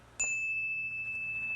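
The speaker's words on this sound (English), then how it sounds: "As the sound of this bell fades into the distance" A meditation bell is struck once, giving a clear bright ding that rings on as a long steady tone and fades slowly, alone over a quiet low hum.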